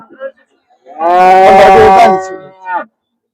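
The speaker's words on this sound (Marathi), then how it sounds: "चांगली मोठी गाय आहे." A pregnant cow at a cattle market in Karad moos loudly once, a long, deep, drawn-out call, preceded and followed by brief softer grunts.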